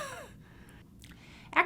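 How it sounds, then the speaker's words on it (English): A person demonstrates a huff cough for airway clearance. Quiet breathing leads into one short, forceful exhaled huff at the very end. "Huff coughing is a way to produce mucus. So it's a way of taking a deep breath in and then expelling that air fast."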